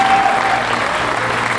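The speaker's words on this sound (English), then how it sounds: "Let's clap for that." A crowd claps steadily and loudly for a brief moment, a dense wash of hand claps with no pauses.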